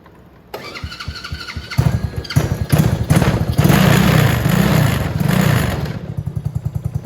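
A 125cc mini jeep engine cranks with a few heavy thumps, catches and revs loudly into a rough, pulsing idle that settles into rapid close-up chugging.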